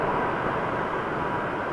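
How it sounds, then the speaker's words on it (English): A Flair Airlines Boeing 737 MAX 8 on flight 663 to Abbotsford at Toronto Pearson Airport, a steady broadband jet engine roar heard at a distance, continuous and even, with no voices. "Flair off to Abbotsford."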